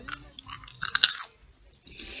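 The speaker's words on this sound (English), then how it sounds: "eating popcorn" Close, quiet crunching and chewing of popcorn by people eating, with soft bites and a sharper crunch near the middle, no talk.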